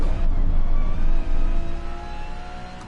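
Gr.3 race car engine in Gran Turismo Sport on the Dragon Trail circuit, a loud, steady, high-revving drone with a brief dip as the driver shifts, then easing slightly.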